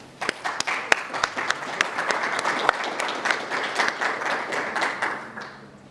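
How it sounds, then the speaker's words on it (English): An audience applauds after a Quranic recitation at a university Muslim students' association lecture, with many sharp claps forming a steady round that trails off toward the end. "A round of applause"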